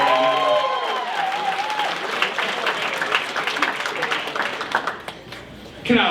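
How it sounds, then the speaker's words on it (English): Wedding guests at an evening reception applaud the bride in a dense, sustained wave of clapping and crowd noise, just after a speaker's voice trails off, fading toward the end as talk resumes. "Can I get a round of applause for the beautiful bride, Kendall?"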